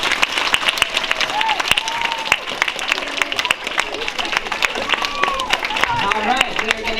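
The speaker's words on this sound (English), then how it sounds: "let's give applause for all of our participants" School audience applauding spelling bee participants, steady clapping from a crowd with cheering and voices mixed in.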